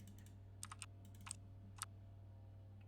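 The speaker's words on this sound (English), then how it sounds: "Keyboard click." Keyboard clicks from the Phasmophobia video game, a handful of sharp, quiet taps spaced irregularly, some in quick pairs, over a steady low hum with no talking.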